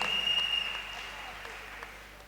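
A church congregation applauding during a sermon, a moderate wash of clapping that starts fairly strong and gradually thins and fades over a couple of seconds.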